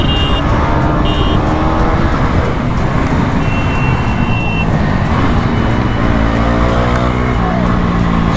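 A KTM Duke 250 motorcycle races along a road, with loud continuous engine roar and rushing wind noise throughout, revs rising and falling amid traffic close by.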